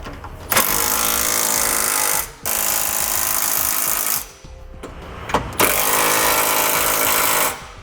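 A power tool snugs down hex flange nuts on a Curt trailer hitch receiver being fitted to a 2016 Dodge Journey, giving four loud close bursts of rattling impact, each a couple of seconds long, with short pauses between them.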